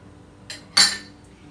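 A spoon mixing muffin batter in a bowl makes two quick, bright clinks against the bowl, the second louder. It is close and isolated against a quiet kitchen background.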